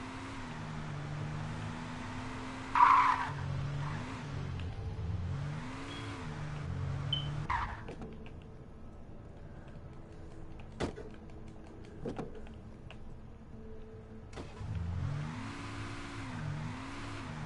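Car engine in the Alan Wake video game starting up and pulling away, with a moderate revving hum, a few clunks and knocks, then a quieter stretch of faint ticks before the engine drone returns.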